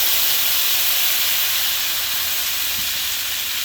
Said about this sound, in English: Then a half a cup of chicken broth to deglaze.